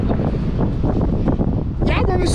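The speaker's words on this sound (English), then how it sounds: "y'all know it's windy, right?" Wind buffets the microphone outdoors near a flatbed truck hauling steel coil, a steady low rumble under someone talking.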